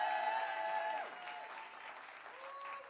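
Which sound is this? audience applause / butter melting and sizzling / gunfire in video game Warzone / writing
audience applause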